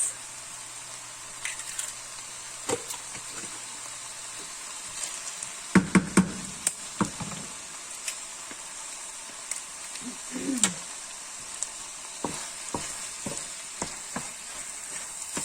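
Eggs frying in a pan for homemade lumpia give a steady sizzle throughout, broken by scattered clicks and knocks of utensils and stirring, close up with no talking.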